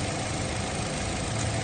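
A car engine runs steadily through a diagnostic test with a check engine light, a constant dense rumble held at an even speed with no break or talk.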